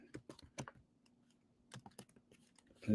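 Quiet keystrokes on a computer keyboard come in short bursts, a few quick clicks, a pause, then another cluster, close and alone.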